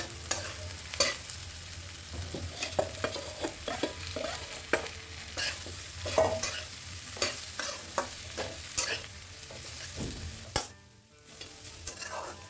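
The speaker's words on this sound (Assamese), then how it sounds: "এইকেইডোখৰ অলপ ভজা যোৱাকৈ ভাজি দিম।" Pieces of taro fry quietly in a pan, a soft sizzle broken by repeated scraping and clinking as a utensil stirs them.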